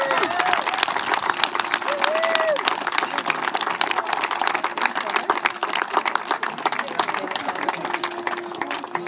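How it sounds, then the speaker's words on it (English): Wedding guests greet newlyweds with sustained applause and scattered cheers, a dense steady patter of many hands lasting the whole stretch, with voices mixed in underneath. "Another massive round of applause as I introduce to you for the very first time, Mr. and Mrs. Metcalf."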